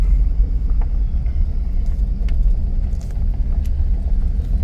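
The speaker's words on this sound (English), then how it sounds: "A little noisy if you're in one of these spots right next to the highway there" Continuous low rumble of highway traffic beside a campground, cars passing in a steady wash with faint higher hiss from tires.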